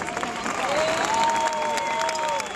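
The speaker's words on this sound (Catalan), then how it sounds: "El primer aplaudiment de la nit, primer perquè no plou, ha de ser per Antoni Gaudí." Crowd applause for Antoni Gaudí at an evening event outside Casa Batlló, a dense outdoor clapping wash with a sustained musical tone running through it.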